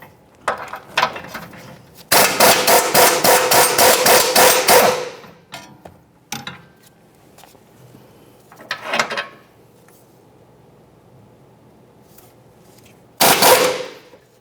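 A 22mm tool loosens the middle bolt of a front lower control arm on a 2011-2020 Toyota Sienna, producing a long burst of rapid, loud hammering impacts followed by shorter separate bursts and clanks, close up with no talking.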